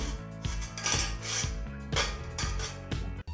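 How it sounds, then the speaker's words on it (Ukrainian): A plate and spoon set down on water clink against each other in a steady series of light, close knocks, fairly quiet, with no talking. "Я кладу на воду тарілку із ложечкою"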